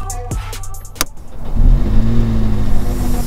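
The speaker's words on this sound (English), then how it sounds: "For example, this is how we have to switch on the car." A car modified to be driven while filled with 4,000 kg of baked beans starts up in freezing winter weather in England, with a few clicks and a whir before the engine catches and settles into a steady low idle.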